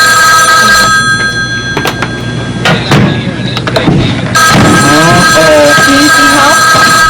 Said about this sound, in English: the ringing sound you hear is your signal to pick up the receiver